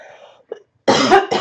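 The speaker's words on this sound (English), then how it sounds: "then I start coughing" A single close, loud cough burst followed by a shorter second cough, preceded by a faint bit of quiet speech and a brief throat sound.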